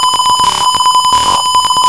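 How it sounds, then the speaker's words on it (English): An electronic buzzer on a light sensor circuit sounds in a dark area, giving a loud, harsh, continuous tone pulsing in rapid beeps, close up, with no talking. "the buzzer went on and the LED red turns on"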